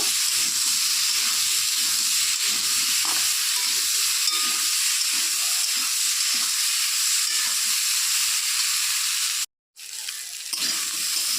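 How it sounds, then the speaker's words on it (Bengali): Boiled potatoes frying in oil with a little salt and turmeric, giving a loud, steady sizzling hiss that carries on throughout, briefly cutting out near the end before resuming. "অল্প সামান্য পরিমাণে নুন হলুদ দিয়ে আলুগুলোকে একটু ভেজে নেব"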